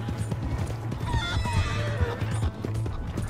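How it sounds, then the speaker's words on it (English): A horse in Red Dead Redemption 2 whinnies and neighs repeatedly while its hooves clip-clop steadily underneath, close and clear, with no talk. "That's my horse."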